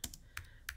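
A few quiet keystrokes on a computer keyboard while a file name is entered during a Cricut design session, three or four soft clicks spaced unevenly over under a second, close but faint, no voices.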